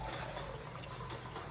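Water pours into a pan of chicken curry seasoned with cumin powder, a steady gushing splash that runs continuously for the whole short moment with no talk.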